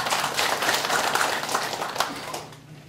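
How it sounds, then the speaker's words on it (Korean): Applause for a chairman at a Gangjin county association launch ceremony, a steady patter of many hands clapping that holds for a couple of seconds, then thins out and fades near the end. "대사를 해주신 나종식 회장님께 다시 한번 뜨거운 박수 부탁드리겠습니다"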